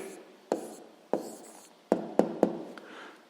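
Pen or pencil writing out a math answer by hand on paper, a series of soft scratchy strokes with sharper taps at each new mark, close and quiet, no talking.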